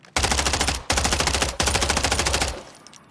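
An MTZ rifle in Call of Duty Warzone fires three loud, rapid automatic bursts of close gunfire, each separated by a brief pause.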